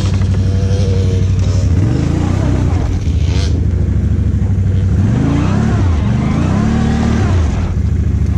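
An ATV stuck in thick mud while trying to climb a log revs its engine hard again and again, the pitch surging and dropping, loud and close, with voices in the background.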